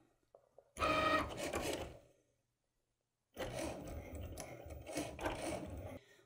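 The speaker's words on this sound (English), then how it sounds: "Once it's done cutting, we can click unload." A Cricut cutting machine with a fine point blade cuts cardstock, giving two loud bursts of whirring, ratcheting carriage motion separated by a pause of quiet.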